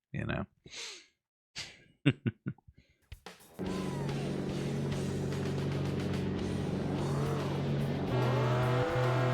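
Rally car in the PS1 racing game Rally Cross: after a few short blips, a continuous droning engine note with rising and falling revs and a shift in pitch near the end, loud and steady, with someone speaking over the start.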